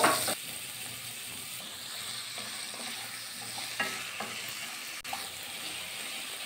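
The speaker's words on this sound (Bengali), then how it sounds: "একটু নাড়াচাড়া করে নিয়েছি, ঢাকা দিয়ে দেবো।" Potato, carrot, pointed gourd and drumstick pieces frying in a pan are stirred, a continuous sizzle broken by intermittent scraping and clinking of the spoon, close and without speech.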